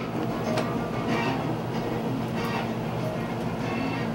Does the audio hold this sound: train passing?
yes